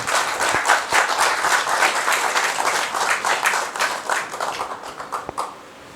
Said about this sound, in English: So let's give Mr. Wicklow a round of applause too.